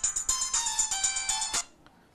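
An electronic telephone ringtone in a busy family home, repeating short bright pulses in a steady rhythm, loud and close, then stopping abruptly.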